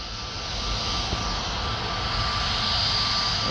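Aircraft taxiing toward the runway at Paris Orly Airport, a steady broadband engine roar with a faint high whine, holding constant and fairly loud throughout with no voices.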